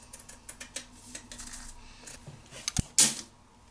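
Dollar-store sequin strips being cut with scissors, a string of small crisp snips and light clicks, then a few sharper metallic taps and a brief louder snap near the end, close and quiet with no talk.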